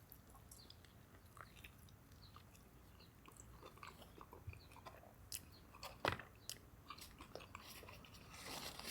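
Someone bites into and chews a Dave's Hot Chicken mini slider, made with a potato bun, kale slaw, cheese and honey. The crunches and chewing are faint and close over a quiet room hiss, with one sharper crunch partway through.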